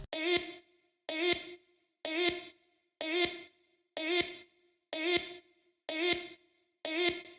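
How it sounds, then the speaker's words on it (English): Chopped vocal samples repeat in a house track remake, eight identical breathy, pitched vocal stabs landing about once a second in an even rhythm, each cut off cleanly into near silence. "I'm using some vocal chops here"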